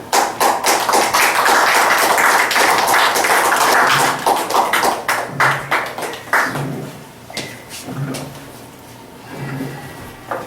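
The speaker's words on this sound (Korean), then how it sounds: "박수 좀 올려드리겠습니다" Audience applause after a speaker is introduced at a lecture at a Jongno lifelong education center, dense clapping for about four seconds, then thinning into scattered claps and a few thumps.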